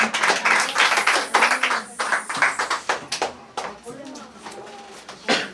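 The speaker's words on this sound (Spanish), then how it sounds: "Y a él vamos a dar un aplauso porque él es el santo, santo, santo." A church congregation claps during a Palm Sunday service, a run of irregular hand claps heard beneath a preacher's loud speech, with the clapping fading as he keeps talking.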